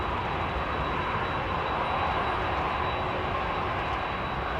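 A Rolls-Royce Trent 700 aircraft engine spooling up slowly at London Heathrow, a steady, broad roar with a faint high whine running through it, continuous and fairly loud.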